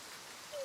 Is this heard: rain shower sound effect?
yes